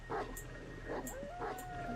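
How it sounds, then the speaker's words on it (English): Dogs barking in the survival game 7 Days to Die (Alpha 16): three short, yelping barks spaced across a couple of seconds, somewhat distant, over a steady ambient hum and a thin sustained tone. "Alright, so there's still dogs over there."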